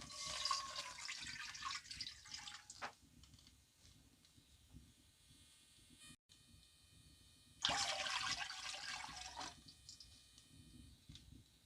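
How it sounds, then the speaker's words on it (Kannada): Two cups of water pour into a pan for date kesari bath. Two separate hissing, rushing pours are heard, one at the start and one later, with a quieter stretch between them. "ಇದರಲ್ಲಿ 2 ಕಪ್ ನೀರನ್ನು ಹಾಕ್ತಿದ್ದೇನೆ."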